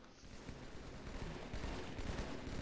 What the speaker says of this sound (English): I'm shooting the hell out of them